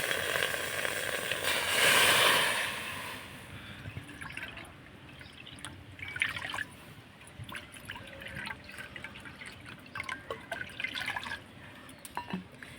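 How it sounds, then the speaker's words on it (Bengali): Water for papad is poured into a pot, a soft splashing fill that swells briefly near the start, then gives way to quiet drips and small trickles, faint and close with no talking. "আর এই বাটি মেপে দিয়ে দিব 3 বাটি জল।"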